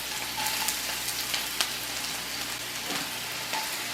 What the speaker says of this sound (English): I'm just going to saute them for just under a minute or so